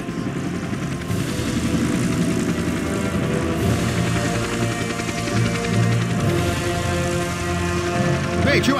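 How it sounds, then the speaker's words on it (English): Helicopter in the Left 4 Dead 2 video game, a steady loud rotor and engine drone holding throughout, with voices talking over it. "The helicopter's found us."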